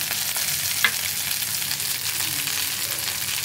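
A lentil-paste filling with salt sizzles steadily in a hot frying pan while being stirred, giving a close, continuous crackling hiss with a few faint scrapes, with no talk.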